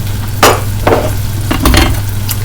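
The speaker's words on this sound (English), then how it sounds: "You hear that sizzling?" Pork chops sizzle in a hot pan with a steady crackle, broken by a few louder clatters and scrapes of utensils against the pan.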